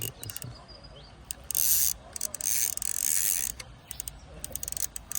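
A fishing reel being wound by hand gives a rapid mechanical ratcheting whir in bursts that stop and start, with short clicking pauses between them. The sound is close and fairly loud.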